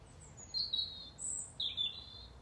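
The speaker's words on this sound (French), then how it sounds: "Les oiseaux sont d'accord." Small birds chirp outdoors in a few bright, high tweets: two short bursts about a second apart, clear over quiet background hiss, with no voices.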